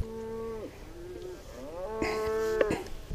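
Cattle mooing out on open range beside Idaho's Henry's Fork of the Snake River, several drawn-out harmonic lows rising and falling, moderately near, with no talking.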